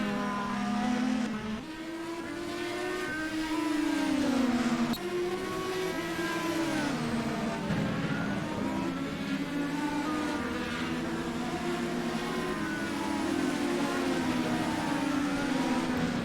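Indy race cars in a racing video game at the Grand Prix of Alabama, engines whining at high pitch and shifting as cars jostle and pass, a continuous loud drone with rising and falling tones.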